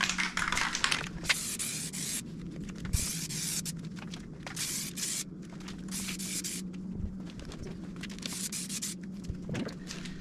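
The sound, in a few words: Rust-Oleum outdoor fabric spray paint being sprayed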